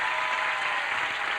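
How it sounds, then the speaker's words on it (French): Steady applause from a crowd, dense and continuous clapping at an even level throughout, with no voices standing out. "on voudrait que tout le monde t'applaudisse"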